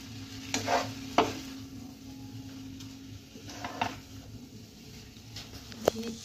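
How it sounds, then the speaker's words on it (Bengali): Grated carrots frying in ghee over a medium flame for gajar halwa, stirred gently: a few sharp spoon scrapes against the pan over a soft, continuous sizzle, close by. "এবার এটা হালকা হাতে নাড়তে থাকবো। আর গ্যাসটা আমার থাকবে মিডিয়াম।"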